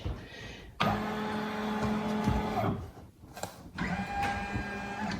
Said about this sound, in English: now I'm just going to trace the design